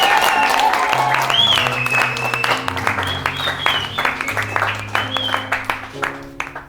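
A church congregation applauds, with a dense wash of clapping that gradually thins into separate, rhythmic claps, while sustained organ or keyboard notes play beneath.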